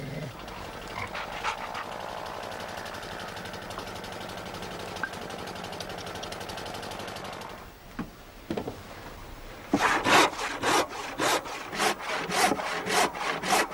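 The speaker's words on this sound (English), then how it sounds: "cuts out the centreboard casing" A hand saw cuts out a wooden centreboard casing for a Shannon One Design sailing boat, first as a faint scraping and then as loud, rhythmic back-and-forth strokes close by.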